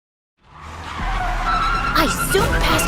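Car tires skid and squeal as a car speeds past other vehicles, rising from silence into a sustained loud roar with sharp screeching sweeps near the end.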